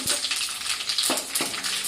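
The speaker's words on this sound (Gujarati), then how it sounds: "તલને છે એ તેલમાં થોડા સંતળાવા દઈશું" Steady crackling sizzle of sesame seeds frying in hot oil, with a couple of soft stirring scrapes; close and continuous.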